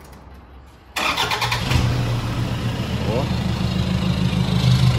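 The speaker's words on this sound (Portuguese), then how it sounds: "Liga ela aí, vamos ver o barulho por fora." A Toyota Hilux pickup engine cranks and fires after a second of quiet, settling into a loud, steady idle heard close from outside, while a person briefly exclaims.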